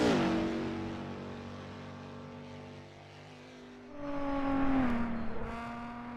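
A 3-litre Gordini racing car's engine at the Isle of Man time trial, a fading high whine that drops in pitch, then a second loud approach that swells, peaks and sweeps downward as the car passes close by.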